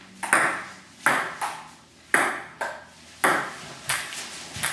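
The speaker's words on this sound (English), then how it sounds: "we're going to play some ping pong on my new ping pong table" A ping pong rally on a new table: crisp ball strikes and table bounces alternate in a quick, fairly regular rhythm, close and clear, with no talking during the exchange.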